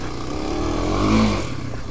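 A motorcycle engine revving close by, a steady rumbling drone that rises to a brief peak and then settles back, loud throughout with no speech.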